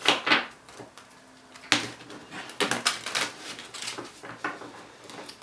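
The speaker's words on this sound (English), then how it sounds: "These cards are a little bigger than your average tarot deck, so they need to be kind of shuffled in this manner." A large angel card deck is shuffled by hand in a quiet room, giving a run of close, crisp papery riffles and soft flicks in irregular bursts with no talking.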